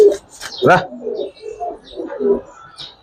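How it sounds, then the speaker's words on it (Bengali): Giribaz highflyer pigeons of a big-house breed coo in a few rolling bursts at close range, mixed with other speech-like voices and faint chirps. "কবুতর কেমন ভাই, বিগ হাউস কবুতর"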